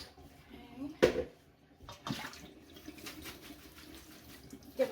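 Mint leaves in a colander are rinsed under running water to wash off dust, a soft, steady trickle and splash with a few louder sloshes, close by, partly under a speaking voice.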